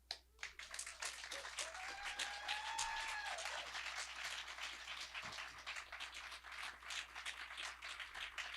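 An outdoor audience at a Poetry in Parks reading claps for a poet, with dense, sustained applause rising quickly and continuing for several seconds before thinning out slightly.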